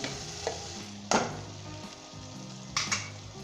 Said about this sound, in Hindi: अब मज़ीद हम इसे 1 से 2 मिनट तक भूनेंगे ताकि जो हमारा चिकन है वो अच्छे तरीके के साथ भुन जाए, फ्राई हो जाए।